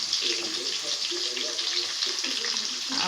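Onions fry in a pan for a village-style sautéed rice, a steady close hiss of sizzling with faint bubbling and some soft low murmuring in the background.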